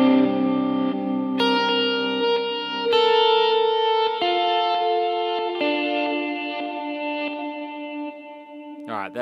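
Sustained electric guitar chords ring out one after another through a reverse delay effect with reverb on a Headrush unit, swelling and smeared with long reverb and delay tails, then a quick strum at the end.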